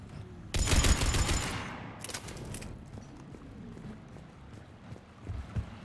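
Mass Effect 3 gunfire rattles out in a loud automatic burst lasting about a second, followed by a shorter volley and then a few scattered lone shots over a low ambient rumble.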